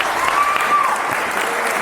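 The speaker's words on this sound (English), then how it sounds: "Give him a round of applause." A brief, dense burst of audience applause fills a hall, loud and even throughout, with no talk over it.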